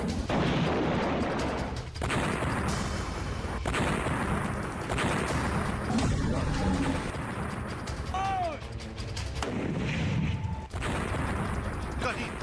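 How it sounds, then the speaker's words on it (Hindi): Heavy booms of artillery fire thud repeatedly at a distance amid a dense, noisy background, with birds cooing faintly. "कहीं तोप के गोलों की आवाज है"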